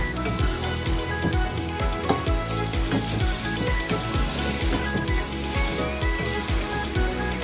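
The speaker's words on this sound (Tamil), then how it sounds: "அதை இது மாதிரி போட்டு நல்லா வதக்கணும்." Tomatoes and onions sautéing in a pan for sundakai vathakulambu, a steady loud sizzle and crackle of frying with repeated stirring scrapes throughout, no talk.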